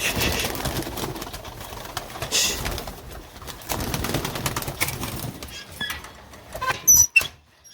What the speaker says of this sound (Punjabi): ਕਬੂਤਰੀਆਂ ਲੈ ਆਂਦੀਆਂ ਸਾਰੀਆਂ